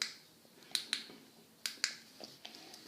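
Plastic buttons on a fidget cube click sharply, about eight crisp clicks in loose pairs and singles, close and alone against a quiet background.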